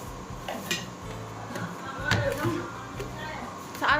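Scattered knocks and clinks of kitchen utensils being moved and set down while a mixer grinder is taken out, a few sharper clatters spaced unevenly through the clip.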